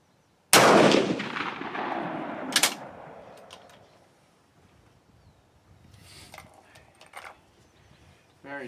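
A single loud rifle shot from reloaded GP11 ammunition, sharp and close, followed by a long rolling echo that fades out, then quieter handling clicks and rustles near the end.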